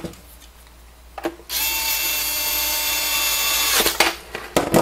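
Magnetic screwdriver driving screws into a roller controller, giving a steady, loud, high-pitched whir for about two seconds, with faint clicks and handling noises before and after.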